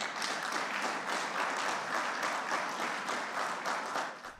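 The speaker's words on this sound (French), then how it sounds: "Dans l'hémicycle, les applaudissements éclatent." Applause breaking out in a parliament chamber, a steady wash of many hands clapping at moderate volume, tapering off at the very end.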